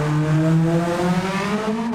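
In Gran Turismo 7, the Nissan RB26 engine swapped from the 1984 Skyline Super Silhouette into the Guerretti Fugu Z, based on the 1970s Datsun 240Z, drones loudly and steadily with a rich, buzzy tone that wavers slightly in pitch.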